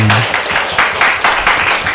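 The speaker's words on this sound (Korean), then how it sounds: "박수 한번 응해 주시면 좋겠습니다" A church congregation at a Sunday service gives a brief round of applause, loose clapping that swells in a few uneven pulses over about two seconds.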